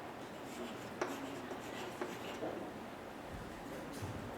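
A pen scratches figures into an accounts book in a quiet room, producing soft, faint strokes with a few light taps against low background hiss.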